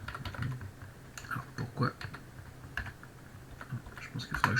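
Typing on a computer keyboard with low batteries, scattered keystrokes in uneven bursts close by while someone speaks French over them.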